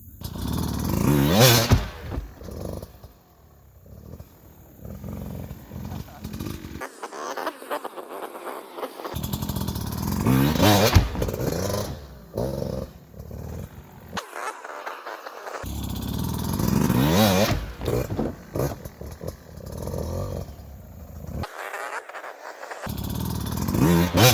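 A trail motorcycle, freshly fitted with a new main jet, revs hard in repeated throttle snaps to wide open, rising and falling loudly between short idle dips, close up.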